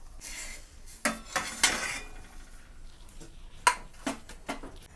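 A jaggery chapati cooked with ghee is lifted off a pan, with several sharp metallic clinks and scrapes of a utensil over a faint sizzle.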